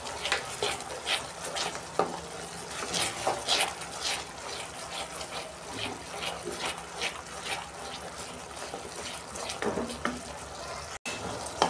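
Ground coriander and cumin fry with peanuts in a wok for a brinjal dish while a spoon stirs and scrapes in repeated strokes over a soft sizzle, close and moderately quiet.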